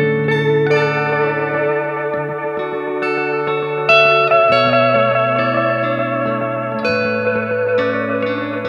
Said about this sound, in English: this is the Space Spiral from EarthQuaker Devices.